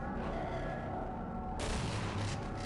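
Continuous rapid gunfire from an early SMG-style weapon in Half-Life 2, dense and loud throughout, with a brighter, harsher burst in the second half and no talk over it.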